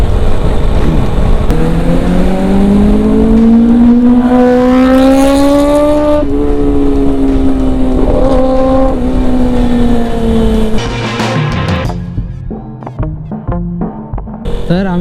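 A motorcycle rides along an open road toward the Old Pune highway, its engine droning loud and close with a rising, shifting pitch through gear changes, then easing off as wind noise and clatter take over near the end.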